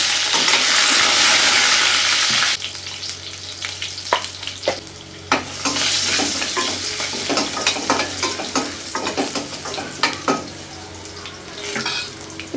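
Green chillies and curry leaves hit hot oil with mustard seeds and cumin, giving a loud initial sizzle, then continued frying crackle broken by sharp pops and a spoon clinking against the pan.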